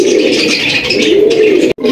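A male Sirazi pigeon, red-geared, coos close and loud in a drawn-out throaty call with a sudden brief cut near the end.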